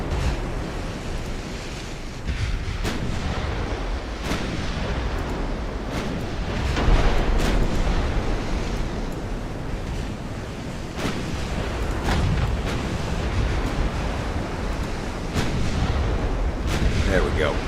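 Naval 13-inch guns fire in Ultimate Admiral: Dreadnoughts, a China 1890 battle, as a dense rumbling barrage of booms and crashing over a constant roar of sea and wind, with louder hits scattered throughout.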